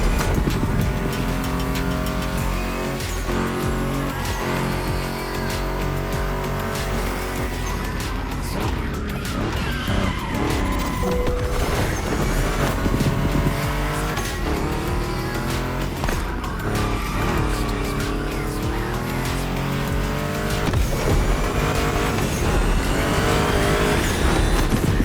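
A Ford Mustang GT racing in The Crew Motorfest video game: a loud engine revs and shifts continuously at full throttle, with tire squeal through turns and no pauses.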